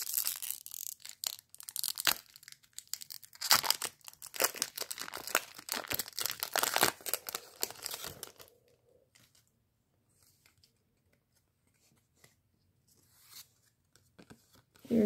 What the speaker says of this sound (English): let's open the pack